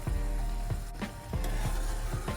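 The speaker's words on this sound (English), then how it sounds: "Once you pour that in there, you're going to whisk it around." A whisk scraping rhythmically through heavy whipping cream and garlic sauce in a hot pan, repeated strokes over a steady sizzle, close and fairly loud with no talk.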